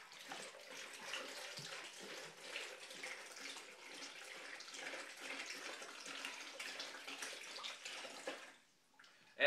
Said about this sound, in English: usually when you pour water out of a bottle, it tends to look like this. It comes out very slowly.